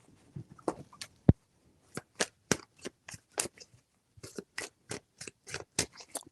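Tarot cards being shuffled by hand, crisp riffling snaps in short irregular bursts, close and quiet, with a sharp click near the start and no talking.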